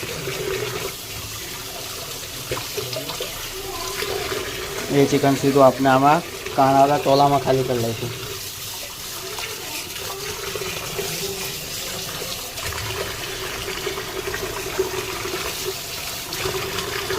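Tap water runs hard into a kitchen basin while raw chicken is washed, a loud continuous splashing that swells and bubbles midway as the basin fills, with a person talking throughout.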